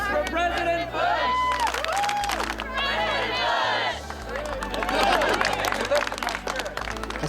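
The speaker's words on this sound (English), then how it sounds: "3 claps for President Bush!" A crowd claps and cheers for President Bush at a camp, a dense wash of applause and whoops mixed with excited chatter and a voice calling out, loud and sustained.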